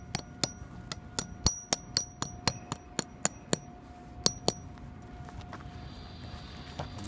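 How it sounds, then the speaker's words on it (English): A landscape sod staple is hammered into the ground with a rapid run of about a dozen sharp, ringing metallic strikes. A few spaced final taps follow, and then it falls quiet. "we just hammer it in."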